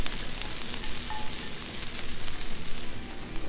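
Hash browns cooking in butter on a Blackstone griddle hiss with a loud, continuous crackling sizzle up close, swelling slightly as they are flipped, with no talking.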